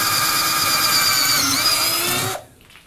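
A Black + Decker SMARTECH 20V MAX 3/8" cordless drill whines steadily at high speed, at full power while boring through wood, for a couple of seconds, close up, then cuts off abruptly, leaving near silence.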